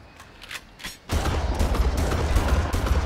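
Gunfire in the video game Far Cry erupts after a quieter second, becoming a dense, loud, continuous volley of rapid shots with heavy low rumble that lasts to the end.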